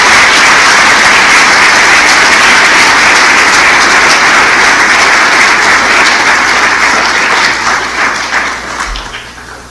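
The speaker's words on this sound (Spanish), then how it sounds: "Dale otro aplauso." Loud, dense applause from a church congregation following a sermon, sustained and even before thinning slightly near the end, with no talking over it.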